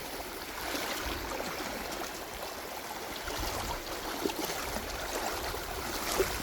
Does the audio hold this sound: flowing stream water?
yes